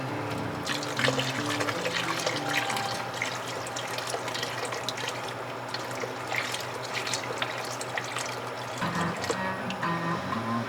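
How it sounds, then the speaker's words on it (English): Stock poured and stirred into a roux in a pot for gumbo, a continuous liquid swishing and bubbling with a clattering of the stirring utensil, steady and close. "once you get that stock in there, what you'll see is it'll start to thicken up real quick"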